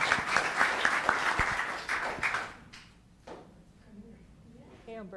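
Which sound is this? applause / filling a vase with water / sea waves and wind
applause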